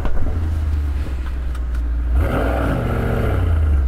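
A performance sedan engine, from a BMW M5 CS, Audi RS6 GT or AMG E63 S, idles with a deep rumble, then revs hard and climbs in pitch at a drag race launch, loud and close.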